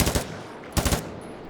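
Two quick bursts of rapid gunfire from a triple-shot gun in the survival video game Miscreated, sharp and loud with a short gap between volleys.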